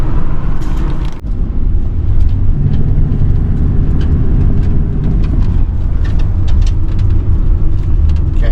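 An RV rolls steadily along a half-gravel dirt road on a detour, its loud, continuous engine and tire rumble filling the cabin, with scattered small knocks and rattles.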